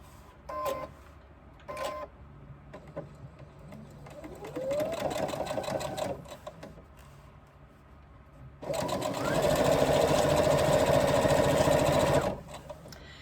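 A sewing machine top stitches a folded bag edge, starting with two quick bursts, then a short run and a longer steady whirring stretch before stopping.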